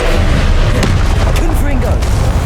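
Spell impact in the Hogwarts Legacy video game, a loud booming blast amid dense combat effects and whooshes, with a voice talking over the action.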